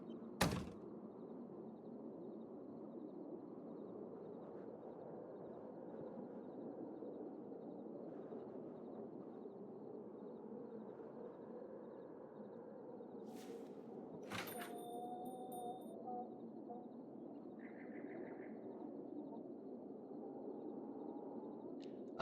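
Inside the Rue Valley video game, a motel room door unlocks with a sharp click and thunk partway through, followed by a brief metallic rattle and a faint tone, over a low steady ambient hum.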